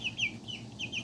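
Serama and pheasant-chicken chicks cheeping and clucking close by, a quick run of high chirps in a loose repeating rhythm over soft background noise.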